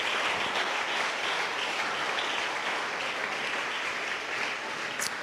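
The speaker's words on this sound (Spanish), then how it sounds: "Aplauda a Jesús" A church congregation applauds steadily during a Spanish-language sermon, a continuous, even roar of many hands clapping together, slightly distant and filling the room.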